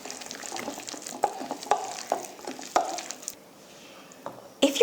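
Hands squish and knead a sticky chicken mixture bound with egg and breadcrumbs in a bowl, giving soft wet squelches in uneven bursts, close up, with a brief lull before a final louder mash.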